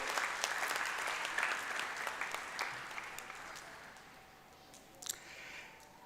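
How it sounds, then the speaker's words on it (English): Convocation audience applauding at a university graduation ceremony, a dense, steady clatter of many hands that fades gradually, with a few louder claps near the end. "please give yourselves a big round of applause because today is your day."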